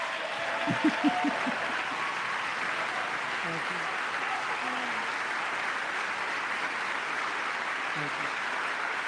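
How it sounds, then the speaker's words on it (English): An audience at a State of the Union address applauds in a steady, sustained wash of clapping, with a few brief voices surfacing over it. "How are you gonna clap at that one?"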